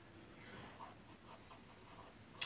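An Aurora flex-nib fountain pen scratches softly across paper in faint, continuous strokes, ending with a brief sharper tick of the nib.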